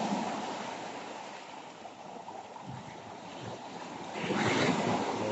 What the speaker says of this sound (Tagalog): nandito ako sa tabi ng dagat